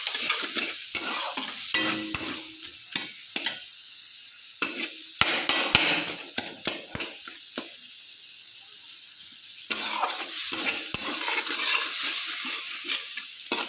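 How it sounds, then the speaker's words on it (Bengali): Mango dal with added sugar and salt being stirred in a pot, with repeated scraping and clattering strokes of a spoon alongside a soft sizzle, pausing briefly midway before the stirring picks up again, close and fairly loud with no talking. "তো এখানে এবার চিনিটুকু দিয়ে দিলাম, দিয়ে আর একটু লবণ দিলাম, দিয়ে ভালো করে নেড়ে চেড়ে নেব।"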